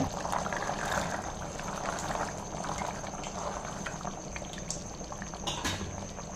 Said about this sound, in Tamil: நல்லா கொதி வருதுங்க